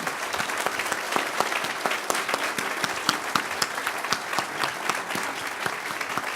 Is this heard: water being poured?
no